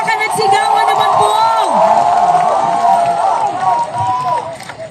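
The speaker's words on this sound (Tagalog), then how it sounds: "Isang malakas na palakpakan at sigawan naman po!" A large crowd at an evening rally in Alabang roars and cheers loudly, whoops and shouts swelling over the noise, with a voice calling out near the end.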